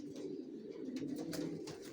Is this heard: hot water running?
no